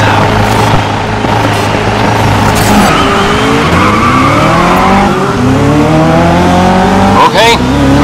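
Race cars launching at the race start in the Grid video game at Indianapolis sport circuit, loud engines roaring and climbing through rising revs with tire squeal, while a voice talks over the racing.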